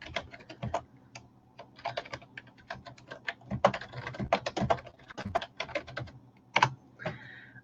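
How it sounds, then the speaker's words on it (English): Rapid, uneven keystrokes on a computer keyboard as a name is entered, close and clear with short pauses between bursts and no voices. "I'll type her name here."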